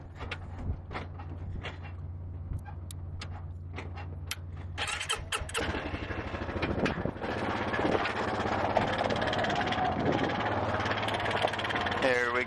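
A farm vehicle engine pulling a milk trailer rumbles at idle under clicks and knocks, then revs up louder into a steady drone as it moves off.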